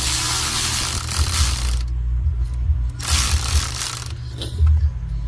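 A ratchet wrench backs out the last bolt while a stuck engine fan clutch is removed, giving two loud, close bursts of rapid clicking separated by a short pause, with a low hum underneath and no talking.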